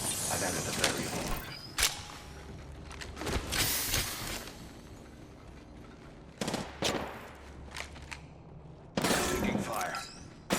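Gunfire in Apex Legends, loud rapid bursts and clusters of automatic shots separated by short lulls, with game noise throughout.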